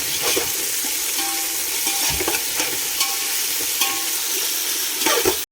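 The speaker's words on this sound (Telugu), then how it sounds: "సో కొంచెం పుదీనా యాడ్ చేసుకుందాం, కొత్తిమీర కూడా యాడ్ చేసుకుందాం కొంచెం, అండ్ మళ్ళీ మిక్స్ చేసుకోవాలి" Mint and coriander leaves stirred into a hot frying pan of vegetables, with a constant loud sizzle under repeated scraping and clattering strokes of a spoon against the pan, close up and without voices.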